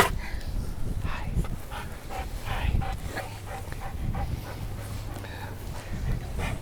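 A golden retriever puppy whimpers and makes small yipping cries during a wedding gathering, with soft broken whines scattered over a few seconds of background room noise.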